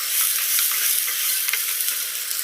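Chicken frying in a pan with garlic and ginger paste, giving a steady bright sizzle with light stirring crackles close by, with no talk over it.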